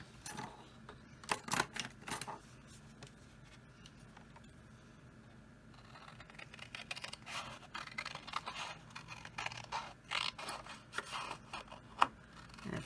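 Scissors cut a curvy line through card for a homemade snowman Christmas card, giving close, quiet snips and scraping crunches in uneven bursts with short pauses between.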